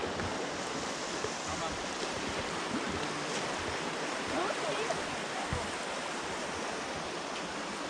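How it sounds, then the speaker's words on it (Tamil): Snowmelt stream rushing through the rocky Ihlara Valley canyon in Turkey, a dense, continuous broadband wash of flowing water, steady and fairly close, with no voices over it. "இந்த தண்ணி எல்லாமே வந்து பனிமலை, அந்த தூரத்தில் பனிமலை இருக்குல்ல, அதுலேருந்து உருகி ஓடி வர தண்ணி"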